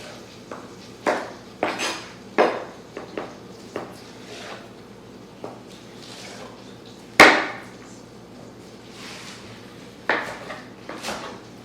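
A knife trims kale ribs on a cutting board, making sharp, irregular taps and knocks spaced a second or so apart, close by with quiet room tone between them.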